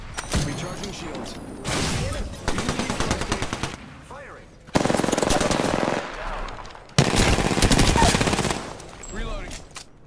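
Bursts of rapid automatic gunfire in a video game firefight, several loud sustained volleys separated by short pauses with mechanical clatter and thumps between them.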